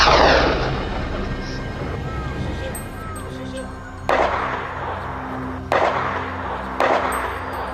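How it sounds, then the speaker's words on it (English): Gunfire during a wild boar hunt in Moroccan fields, with three sharp, loud shots spaced a couple of seconds apart, each echoing and decaying over a rumbling outdoor background. "The sound of gunfire echoed relentlessly as one by one"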